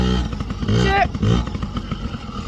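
Small PW mini motorcycle engine juddering unevenly, a close, low, lumpy idle with uneven bursts while a person talks over it.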